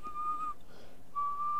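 A person whistles in imitation of a referee's whistle during a Football Manager 2014 game, two sharp steady high blasts separated by a short gap, faint and alone.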